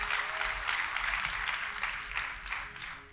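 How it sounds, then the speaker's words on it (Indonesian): A church congregation applauding together during a worship service, the steady dense clapping filling the room at a moderate level for the whole stretch, with no voices breaking through. "Kita kasih tepuk tangan yang paling meriah buat Tuhan kita."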